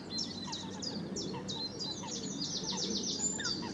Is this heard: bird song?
yes